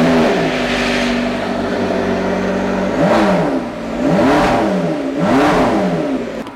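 A loud car engine idles with a deep, steady rumble, then is revved hard three times in a row, each sharp rise in pitch falling back between blips.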